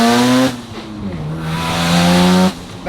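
Single-turbo Mazda RX-7 rotary engine revving loudly up close, a buzzy harmonic-rich roar that rises, dips as the revs fall, then climbs again before dropping off sharply near the end.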